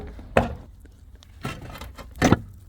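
Old roof tiles being pried and torn off the roof of a farmhouse in snowy weather, giving three separate sharp scraping, knocking clatters with quiet pauses between them.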